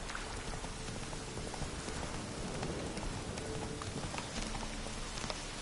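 The horse Roach gallops in The Witcher 3, hooves drumming in a rapid continuous rhythm beneath a dense, rain-like wash of ambient noise, moderately quiet and without speech.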